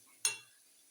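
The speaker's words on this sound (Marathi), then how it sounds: "आता हे मसाले जाणार कढईमध्ये" Spices hit hot oil in a kadhai with one sudden, sharp sizzle that flares up and fades within half a second, close and fairly quiet.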